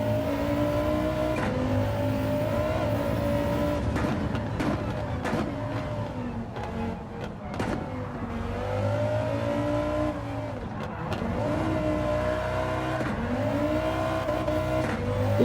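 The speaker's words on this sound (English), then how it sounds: "If you didn't guess the 5-cylinder Quattro Group B engine, I don't think we can be friends anymore." A 5-cylinder Quattro Group B engine swapped into an Audi TTS in Gran Turismo 7 snarls continuously, its pitch rising and falling through repeated revs and gear changes, loud and steady throughout.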